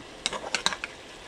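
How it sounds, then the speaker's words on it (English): Risotto gently stirred in a pan, a handful of soft scraping and clinking strokes of utensil against pan at a quiet level, with a faint sizzle underneath. "We're just gently stirring it"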